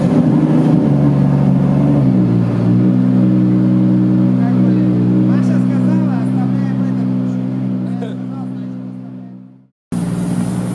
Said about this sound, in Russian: Машину запустили